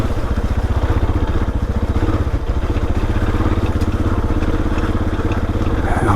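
A Suzuki DR650 single-cylinder engine thumps along off-road on steep, loose terrain, a close, rapid, steady pulsing beat at low revs running continuously with slight variations in throttle.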